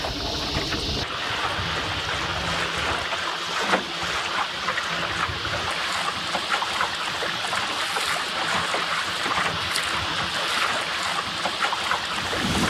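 Continuous rush of water along a moving sailing dinghy's hull at about 6 or 7 knots, with steady breeze noise, splashing and gurgling throughout, no voices.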